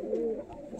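A domestic pigeon kept for sale at a home in Madras coos in a single soft, drawn-out call, close and fairly quiet, with no talk over it.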